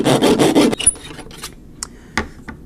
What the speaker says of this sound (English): then we'll bring in our razor saw and make the cut